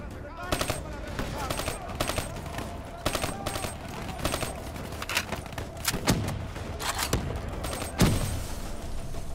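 Repeated bursts of rapid gunfire crackle in short volleys, with a few heavier booms mixed in, over a constant background din, in the video game Call of Duty: Black Ops III.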